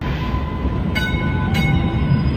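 A Boston Riverside line train arriving at a station, a loud steady rumble of wheels and carriages with a faint high tone and two brief metallic squeals or clanks partway through.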